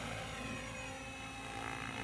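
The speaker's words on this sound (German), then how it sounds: "Und der Heli, der fliegt nie unter diese 8 Meter ungefähr." A remote-controlled helicopter fitted with a Spirit Geolink flight controller flies nearby, its rotor giving a steady, loud buzzing whir with no talk.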